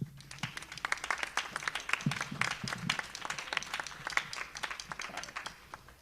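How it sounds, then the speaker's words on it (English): Children clapping for their parents at a school spring music performance, a lively scattered patter of individual claps lasting several seconds at moderate distance, with faint voices mixed in. "Kids, clap it up for your parents."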